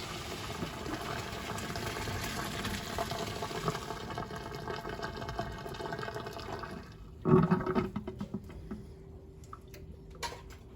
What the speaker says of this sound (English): we are going to strain them in the strainer